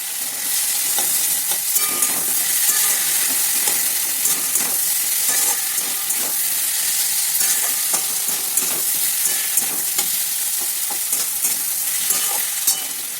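Tomatoes and ginger paste frying in a pan for homemade rajma, with a steady loud sizzle and repeated scraping stirs of a spoon against the pan, no voices.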